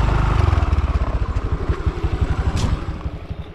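Scooter engine idling and running during a wife's riding lesson, a close, loud putter with a fast regular pulse that softens slightly toward the end, with no talk over it.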